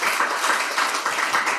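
An audience claps during a spiritual teaching talk, a soft, even patter of applause without any voice over it.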